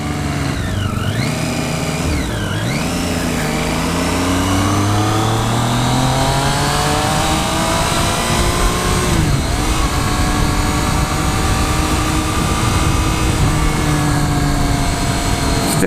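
A 2014 Triumph Street Triple R motorcycle engine revs steadily and loudly throughout, its pitch sweeping up and down through smooth rises in close, continuous sound without any talk.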